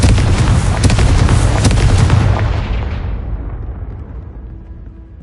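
Confringo fire spell blast in the Hogwarts Legacy game, a loud booming explosion that rumbles for a couple of seconds then fades away over several more, heard alone.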